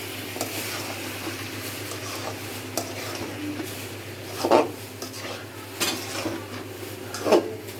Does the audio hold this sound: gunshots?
no